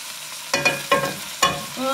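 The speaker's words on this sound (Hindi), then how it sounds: "और अपने अनियन इसके अंदर ऐड कर दूँगी। और इसका मैं ऑयल भी इसके साथ ऐड करूँगी।" Onions frying in oil for a bhindi dish, stirred with a spoon: three or four close, crisp scraping strokes against the pan over a low bubbling sizzle, no talking.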